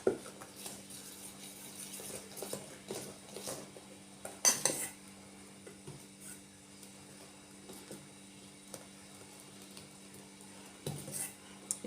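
Salt being stirred into dosa batter in a metal vessel, with a spoon clinking and scraping against the sides in quiet, irregular strokes and one sharper knock midway.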